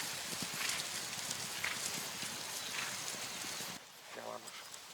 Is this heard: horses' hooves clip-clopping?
yes